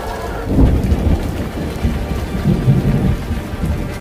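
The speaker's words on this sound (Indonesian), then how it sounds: "800 meter dari mulut gua, tiba-tiba hujan turun dengan sangat deras." Heavy rain pours steadily outside a cave in a film scene, a dense, loud roar of falling water with deep low rumbling beneath, continuous throughout and with no voices.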